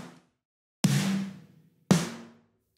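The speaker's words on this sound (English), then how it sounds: "I have three snare drums layered together here that on their own each sound like this." Layered pop-country snare drum samples are played one at a time: a cut-off tail, then two separate bright snare cracks with ringing bodies, heard alone and fairly quiet.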